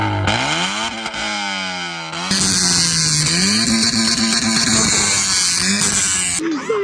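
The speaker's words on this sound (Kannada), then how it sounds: "ಈ ಗಾಡಿ ಎಕ್ಸಾಸ್ಟ್ ಸೌಂಡ್ ನೋಡ್ಬೇಕಲ್ವಾ" Exhaust of a stage-tuned Honda Civic with a 1.8 litre engine revving loud and close: revs climb, drop back, then hold a high, raspy blare before cutting off abruptly near the end.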